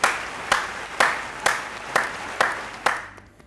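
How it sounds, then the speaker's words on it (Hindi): About seven slow, evenly spaced claps ring out in a reverberant room, each sharp and distinct, before the clapping stops near the end. "Why are we clapping?"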